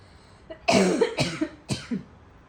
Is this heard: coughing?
yes